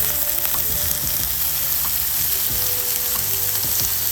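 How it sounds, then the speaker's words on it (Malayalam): Large pieces of beef searing in a hot pan for a Mexican-style beef curry, giving a loud, dense, continuous sizzle close by, with occasional shifts as pieces are moved; no voices. "വലുതായിട്ട് മുറിച്ചിരിക്കുന്ന ബീഫ് കഷ്ണങ്ങൾ ഓരോന്നും ഇതെടുത്ത് സീർ ചെയ്യുക"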